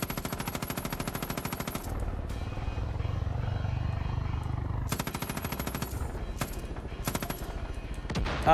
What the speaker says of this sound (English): Scripted helicopter spawn!